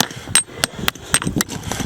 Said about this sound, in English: then get into it with your chisel and your bigger hammer